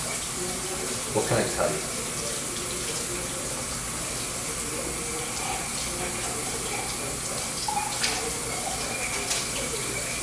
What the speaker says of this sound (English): I'm gonna wash this.